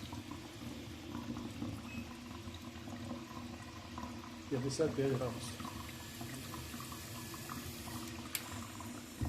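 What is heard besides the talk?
water flowing through an instantaneous water heater from the tap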